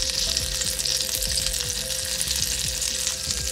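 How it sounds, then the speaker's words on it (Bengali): Butter and a little oil sizzle steadily in a pan after onion and garlic have been fried in it, a loud, continuous crackling hiss with faint stirring scrapes underneath. "ওইতেই আমি বাটারটা দিচ্ছি আর সামান্য একটু তেল দেবো যাতে বাটারটা জ্বলে না যায়"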